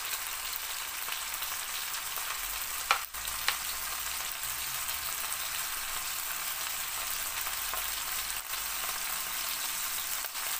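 Heated butter sizzling as it is poured over food, a steady, fairly quiet crackling fry with a couple of brief clicks and no talking.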